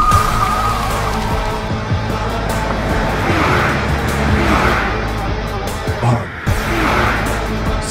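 A fleeing car speeds away during a police chase, its engine roaring loudly and steadily up close, with a brief tire screech near the end and voices speaking over it.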